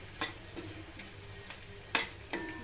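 Sambar masala and chutney frying in a hot oil tempering for idli sambar, a soft steady sizzle with a few sharp clinks and scrapes of a spoon stirring the pan, fairly faint.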